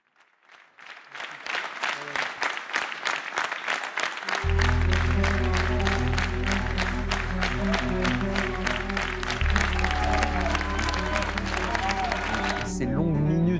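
Long, continuous applause at a political campaign rally in Marseille, building from quiet to a loud, dense roar of clapping and crowd noise, joined partway through by a heavy low rhythmic music bed that cuts off at the end.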